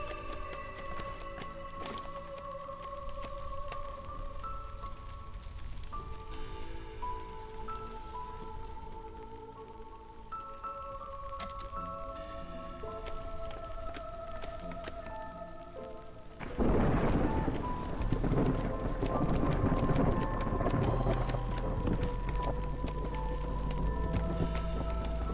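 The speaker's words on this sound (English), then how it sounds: "we're going to the first storm, which we should not have a problem with." Rain patters beneath game music and rumbling thunder in the video game Against the Storm. Midway through, the storm hits suddenly and the downpour swells into a loud, dense roar.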